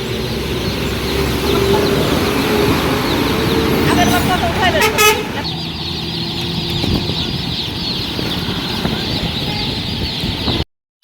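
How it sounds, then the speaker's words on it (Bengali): Vehicle horns toot over busy traffic noise beside a poultry farm, with roosters and chickens clucking nearby through a constant, fairly loud background. "এমন গাড়ি ঘোড়ার শব্দ আজকে।"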